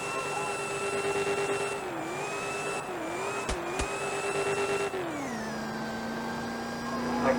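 A car in a video game does a smoky burnout at the Summernats, its engine holding a loud, steady drone that dips and rises in pitch, with a couple of sharp clicks midway.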